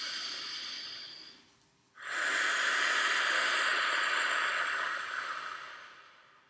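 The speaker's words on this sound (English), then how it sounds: "You might notice that I'm breathing quite deeply." Deep, slow breathing during a guided energy-clearing meditation, heard close up as one long airy exhale, a brief pause, then a fuller drawn-out breath hissing steadily before fading.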